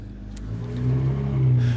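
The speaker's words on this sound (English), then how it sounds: "This car wasn't that loud. I thought it was louder than that." A car engine revs up, its steady tone climbing and growing louder over a couple of seconds, close by and with no talk over it.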